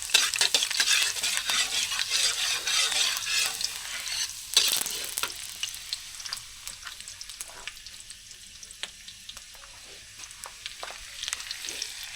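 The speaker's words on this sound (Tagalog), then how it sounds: "tostahin lang muna natin yung sibuyas guys" Onions sizzling as they toast in a pan: steady bright frying crackle with repeated scraping stirs of a utensil against the pan, loudest early and easing off slightly, no voices.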